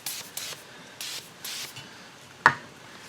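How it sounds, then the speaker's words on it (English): Four short, soft hissing spray bursts of lubricant go onto the ring of a beadlock UTV tire, evenly spaced and close up, followed by a sharper knock or clunk near the end. "go ahead and lube up the ring of the tire."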